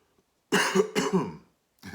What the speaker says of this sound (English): see, I'm coughing.